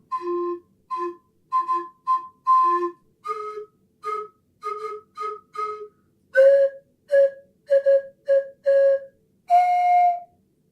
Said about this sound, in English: don't let anyone catch you playing a slide whistle